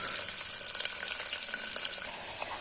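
Small shallots frying in oil for pepper chicken, a bright, steady sizzle with faint crackles, close and continuous throughout the short stretch.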